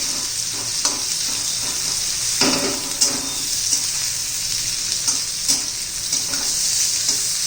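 Onion sautéing in a pan for a fenugreek-leaf vegetable dish, a steady close sizzle of frying with repeated scraping stirs of a spoon through the pieces, no talking.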